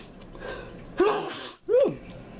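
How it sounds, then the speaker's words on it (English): A close sneeze in two sharp vocal bursts, a quick intake then a forceful release, with a quiet room behind it. "I am sneezing like crazy."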